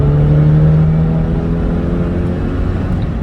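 A 1998 Mini Cooper's engine drones steadily and loudly from inside the car while driving, holding a fairly constant pitch with a slight rise and no talking.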